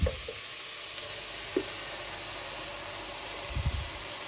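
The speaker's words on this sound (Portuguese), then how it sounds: "Agora a gente vai colocar o tomate batido aqui." A steady, loud sizzle of blended tomato poured into a hot pan, with a few faint clinks near the start and end.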